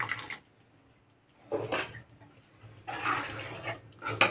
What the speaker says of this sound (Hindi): यहाँ पे ग्रेवी के लिए आधा कप पानी डालते हैं